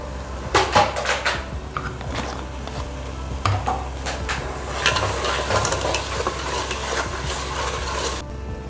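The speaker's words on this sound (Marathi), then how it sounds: "आणि हे 5 ते 7 मिनटं छान परतून घ्यायचं आहे" Crab curry masala is sautéed and stirred in a pan, with the spoon scraping and knocking against the metal over a constant close sizzle and a low steady hum, several sharp clacks coming early on.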